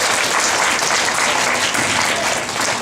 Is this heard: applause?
yes